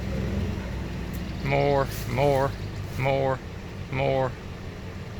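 A vehicle engine runs in reverse to pull an X Bull synthetic winch rope taut against an Iron Cross bumper, giving a steady low drone throughout while a man calls out in short bursts over it.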